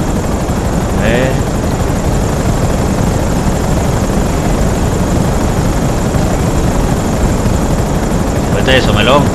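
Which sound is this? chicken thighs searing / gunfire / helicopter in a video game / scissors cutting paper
helicopter in a video game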